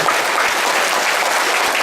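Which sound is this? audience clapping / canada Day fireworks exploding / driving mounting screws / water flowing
audience clapping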